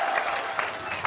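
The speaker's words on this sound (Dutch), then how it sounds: "Applaus voor de mannen." Brief burst of applause from an audience after boys perform in a children's dance battle, a steady, moderately loud patter of clapping lasting about a second.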